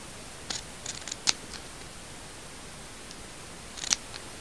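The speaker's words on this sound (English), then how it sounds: "Slice the ribbon" Scissors slicing through ribbon, a few faint snips followed by a crisp cut, then a pause and another sharp cut, close and quiet against a hushed room.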